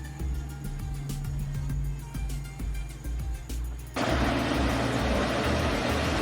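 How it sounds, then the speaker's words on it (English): A police motorcycle engine idles with a low, throbbing rumble, then roars louder and rougher as it is revved, heard up close without talk. "Police motorcycle."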